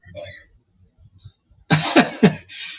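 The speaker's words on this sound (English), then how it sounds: "She's having a coughing fit" Faint muffled noises, then a burst of several harsh coughs close to the microphone, ending with a throat-clearing rasp.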